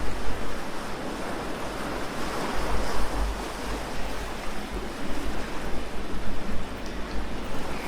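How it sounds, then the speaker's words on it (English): Sea waves surging and washing in a steady, dense rush of surf with faint wind, loud and continuous with gentle swells and no voices. "Have you noticed that the sea has its own melody?"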